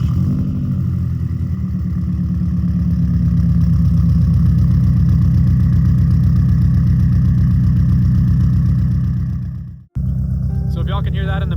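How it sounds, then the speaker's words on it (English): A 2013 Subaru WRX STI exhaust after a cold start on a chilly Colorado day, settling into a steady, loud, low burbling idle for about ten seconds before it cuts off abruptly, followed by a brief quieter tail. "we'll go ahead and get a little sound clip of this exhaust for you guys"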